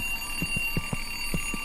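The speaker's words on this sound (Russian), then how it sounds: "Сейчас опять будильник зазвонит" An alarm clock rings in the horror video game Dark Veer, a steady repeating pattern of short low pulses over a constant hum, moderately loud with no talking.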